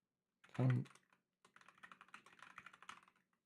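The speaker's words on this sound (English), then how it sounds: "this keyboard is so hard to use." Typing on a computer keyboard while coding in C++: one loud thump, then a rapid run of close, crisp key clicks in an irregular burst, alone in a quiet room.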